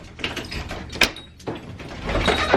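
A house door opens as someone arrives home during a snowstorm, with a sliding rumble, a sharp knock or latch at about one second, then rising rustle and movement nearby.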